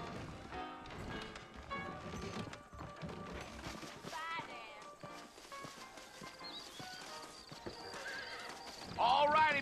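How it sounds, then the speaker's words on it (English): Horses in the Red Dead Redemption video game clip-clop and neigh, hooves pattering steadily with whinnies rising above, mixed under game dialogue and a swelling music score. "I got the horses saddled up and ready out front."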